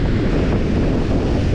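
Strong wind blows at the seashore during a windstorm, a loud, constant roar battering the microphone over the rumble of surf.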